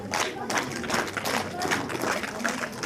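An audience at a school stage event applauds loudly as guests are called up to be honoured: dense, steady clapping from a crowd lasting a few seconds, close and continuous.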